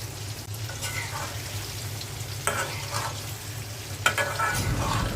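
A mix of fish, including a large foli fish, sizzles loudly in a pan, with a constant close frying hiss broken by stirring scrapes and a couple of sharp clacks, and no one speaking.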